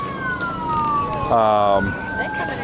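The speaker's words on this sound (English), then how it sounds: "Sorry if the siren's loud" Wailing emergency siren at a large ham radio convention, sweeping tones nearby and fairly loud, with a brief harsher burst in the middle and voices murmuring underneath.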